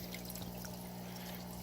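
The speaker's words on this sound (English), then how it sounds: "I don't normally pour all that liquid in there" Green bean liquid is poured into a fish tank as a soft, faint trickle over a steady low aquarium hum, close and brief.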